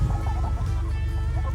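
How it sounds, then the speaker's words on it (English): A rooster clucks in short, close bursts while turkeys and chickens eat a chicken-and-rice casserole on a homestead, with a low steady background rumble. "that rooster said, hey, let me get up in there too"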